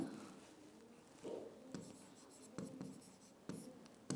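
Pen writing on paper while a Sanskrit lesson passage is noted down, a steady quiet scratching with a few firmer strokes and taps, close and alone with no talk.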